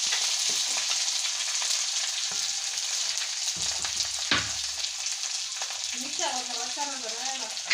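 Mustard seeds frying in hot oil for a dried mango pickle, a steady crackling sizzle filling the pan throughout, with faint stirring clatter and a brief high squeaky sound near the end.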